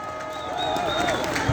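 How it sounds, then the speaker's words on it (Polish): A crowd at a street protest in Warsaw about education applauds, a continuous, fairly distant clatter of clapping at steady level, with a voice sounding faintly above it. "proszę też Państwa o brawa"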